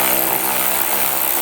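A power tool whirs in a steady, loud, high-pitched drone while backing out the screws of a speaker housing inside a Jeep Wrangler's dash, stopping abruptly at the end.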